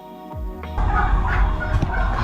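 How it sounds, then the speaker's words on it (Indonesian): Farmed turkeys gobble loudly and close, a rapid rattling burst starting after a short rising tone and continuing in overlapping calls from several birds, with no talk. "kalkun itu tipikal hewan yang mudah sekali untuk bersuara dan suaranya sangat kencang"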